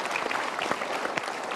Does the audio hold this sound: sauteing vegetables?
no